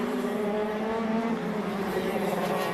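KZ2 racing karts run on track during the final of the 2019 NSW KZ2 Super Series, producing a continuous, steady engine drone that holds at a fairly even level throughout.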